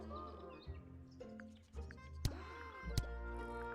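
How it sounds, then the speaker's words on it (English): Chirping bird calls woven into the background music of the video game Tangle Tower, soft tweets and short trills drifting over sustained tones, with occasional sharper clicks. "They're making bird sounds."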